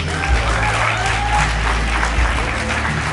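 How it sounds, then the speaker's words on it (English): At a high school graduation ceremony, the audience applauds a graduate in a steady, full burst of clapping with a low hum underneath. "Ladies and gentlemen, a rounding applause for Sarah Osman"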